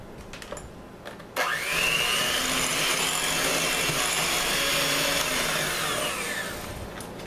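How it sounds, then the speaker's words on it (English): An electric mixer on low whirs steadily as it creams a cricket-pineapple pie filling, starting abruptly after a brief quiet moment and holding a constant, fairly loud motor drone before easing slightly near the end. "I'm going to put my mixer on low at first so you don't get a powdered sugar shower"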